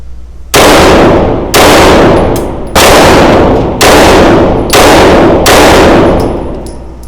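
A Staccato CS pistol with a compensator and a light fires six loud, evenly spaced shots about a second apart, each a sharp crack with a ringing tail, very close.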